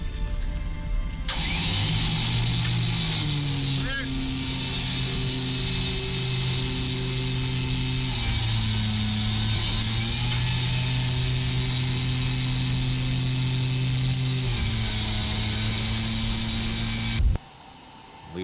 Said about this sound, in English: We primed the engine, and now we're ready to fire it off.